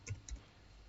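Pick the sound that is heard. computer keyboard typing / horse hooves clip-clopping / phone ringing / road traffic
computer keyboard typing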